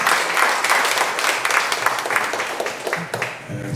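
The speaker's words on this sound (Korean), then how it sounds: "뜨거운 박수 부탁드립니다." Audience applause at a church book launch ceremony, a steady wash of many hands clapping that continues for several seconds and thins slightly toward the end.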